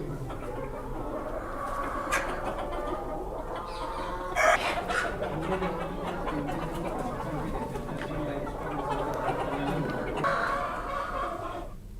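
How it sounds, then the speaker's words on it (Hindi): Hens of a breed native to Jhabua cluck steadily amid a dense farmyard din, with a brief louder squawk near the middle and people talking faintly in the background. "मुर्गी की प्रजाति है जो झाबुआ में तो पाई जाती है"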